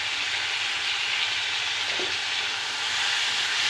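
Tomatoes with salt and turmeric sautéing in a pan, giving a steady, even sizzle and hiss throughout, with a faint clink near the middle.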